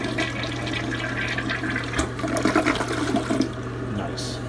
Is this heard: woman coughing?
no